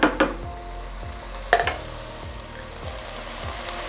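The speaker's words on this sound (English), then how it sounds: "And we'll get that all stirred in." Italian sausage, peppers and onions sizzle in a pan while a spoon stirs them, with soft scraping strokes in a steady rhythm and a couple of sharper clacks against the pan.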